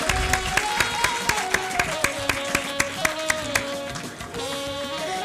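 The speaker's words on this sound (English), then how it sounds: "Let's give them a big clap." An auditorium audience at a university symposium awards ceremony claps steadily, distinct rhythmic claps repeating at an even pace over a sustained musical tone, moderately loud and continuing throughout.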